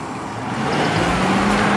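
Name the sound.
car engine started and revved with the gas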